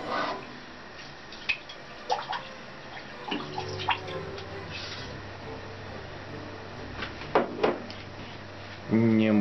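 Water is poured into the bowl of a rice cooker holding one cup of rice, a soft continuous trickle and splash at close range with light handling knocks of the bowl and a louder clatter at the end.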